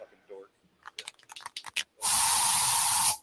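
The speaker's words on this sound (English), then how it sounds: "So you just used bug spray in your home." Bug spray hisses from an aerosol can in a home in one continuous burst of about a second, loud and close, after a few light clicks and taps.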